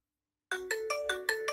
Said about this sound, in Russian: Рингтон.